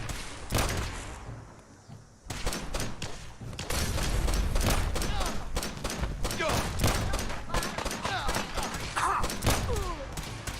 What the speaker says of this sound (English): they fire both pistols